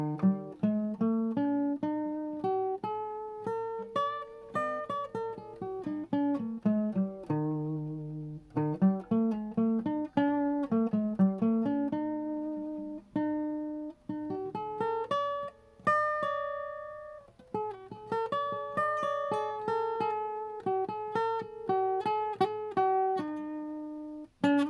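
A pentatonic scale played as continuous flowing melodic lines on a pitched instrument, clear tonal notes in quick runs with brief pauses between phrases, close and steady, no talking.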